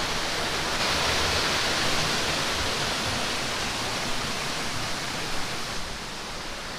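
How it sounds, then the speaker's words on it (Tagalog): The 88 Falls waterfall in a remote spot in Bulacan, a steady, loud, broadband roar of falling water that holds constant throughout with no talking. "Yan yung 88 falls."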